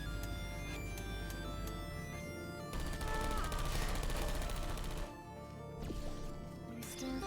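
Turrets spraying bullets in Portal 2, steady rapid automatic fire rattling on through most of the stretch, swelling louder mid-way, dipping briefly, then resuming, with no talk.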